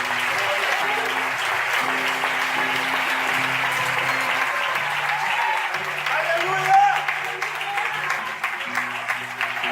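A church congregation applauds steadily for several seconds, a dense wash of clapping with sustained musical tones underneath.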